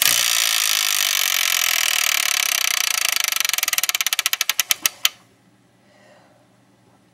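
A spinning wheel in a Wheel of Fortune video game clatters past its pegs in rapid clicks that slow and spread apart before stopping abruptly, followed by near silence.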